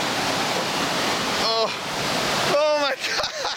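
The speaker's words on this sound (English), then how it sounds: "We are almost at the motherland, the mother of all waterfalls" A large waterfall roars with a steady, dense rush of water throughout, while a voice briefly calls out over it twice near the middle and end.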